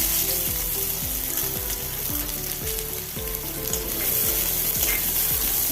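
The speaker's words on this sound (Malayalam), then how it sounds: "കടുക് പൊട്ടി കഴിയുമ്പോൾ ഒരു വലിയ സവോള അരിഞ്ഞത് ചേർത്ത് കൊടുക്കുക" A large chopped onion hits hot oil after mustard seeds have popped, for a Kerala-style beetroot thoran; a loud, steady sizzle and fry continues throughout with occasional stirring, no voices.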